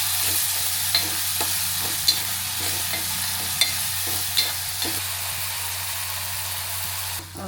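Tomatoes with salt cooking in a pan for a prawn curry, a continuous hiss of frying with regular spoon taps and stirring scrapes against the pan every second or so, close and alone.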